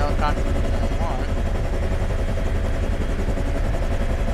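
Bell H-1 Huey helicopter in a flight simulator game gives a steady, loud rotor and engine roar that fills the whole stretch with constant, dense noise.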